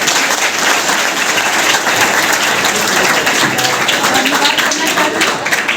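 Enthusiastic audience applause at a school road safety awareness program at Lucknow Model Public Inter College, a loud, continuous crackle of many hands clapping for several seconds with some crowd voices mixed in.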